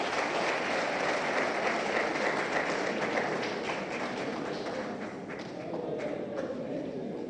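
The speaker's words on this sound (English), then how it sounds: "A round of applause, please." Sustained applause from a seated audience at a governance coalition gathering, broad and even clapping from many people that eases slightly toward the end.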